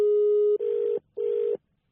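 A telephone tone sounds while a number is being dialed: one long steady tone, then two shorter pulses with short gaps between them. The tones are clear and close, with no voices.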